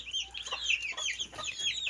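Newly bought Heyrati chicks peep in quick, high, repeated bursts, close and clear, with several small birds calling over one another and no talking.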